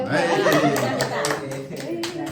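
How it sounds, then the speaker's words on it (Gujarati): Several people clap together at a family birthday celebration, a short burst of rhythmic hand claps mixed with chatter and talking voices close by. "એટલો પાડો તાળીઓ"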